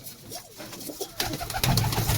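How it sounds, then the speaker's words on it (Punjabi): Pigeons coo nearby, soft throaty calls repeating over a background of rustling and ambient noise. "ਇਹ ਵੀ ਬਾਈ ਕਬੂਤਰ ਬੀਤੇ ਦੇ ਆ"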